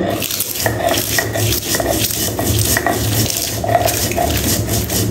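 Very hot green chilies are ground by hand for a spicy bhorta, a loud, close, rhythmic back-and-forth scraping and knocking that repeats steadily throughout.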